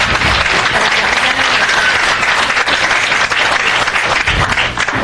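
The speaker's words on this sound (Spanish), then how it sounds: "Un aplauso por su servicio" Sustained applause fills a Los Angeles city council meeting chamber after a service proclamation, a dense, even wash of many hands clapping for several seconds.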